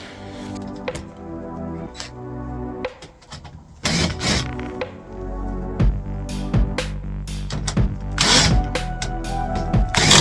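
A cordless power drill backs screws out of the top panel of an HVAC unit's coil case, giving several loud whirring bursts separated by handling clatter and metallic knocks.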